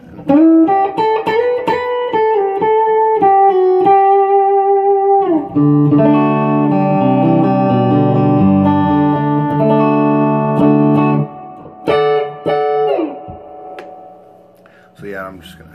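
A T-style electric guitar with Bill Lawrence pickups, played on the fourth pickup position, rings out loud sustained notes and chords in phrases separated by short breaks.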